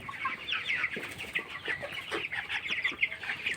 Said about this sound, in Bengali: এটা মোরগ আর এটা আছে মুরগি